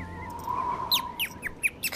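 A cartoon bird sings a series of bright, rising whistled chirps, five or six short notes in quick succession over a faint breezy background, close and clear.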